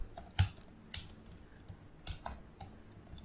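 Typing on a computer keyboard while writing Python code, a few soft scattered key clicks and taps close by, quiet with gaps between them.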